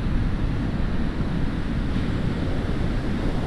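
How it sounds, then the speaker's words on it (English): Ocean waves on the Sonoma Coast during high surf, a loud continuous roar of breaking water against rocks mixed with wind buffeting the microphone, steady throughout. "So now you can see the waves up close as you approach the water"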